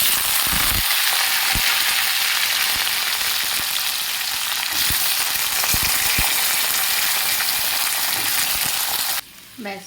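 Sweet potato frying in mustard oil, a steady, loud, close sizzle running nearly ten seconds, broken by a few sharp stirring knocks, then cutting out as a voice begins at the very end.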